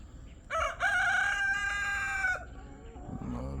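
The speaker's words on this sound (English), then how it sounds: "That's a rooster." A rooster at a property in the Philippines crows once, loud and close, with a long drawn-out call, followed by fainter clucking from nearby fowl.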